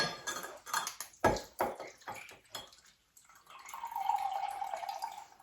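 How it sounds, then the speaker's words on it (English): Water splashes and trickles as it is strained out of a glass jar of vegetables for relish, with clinks and knocks of the jar up close, then a steady, quieter pour running into a container. "So I'm going to strain the water back out, add it to the salt, and put it back in."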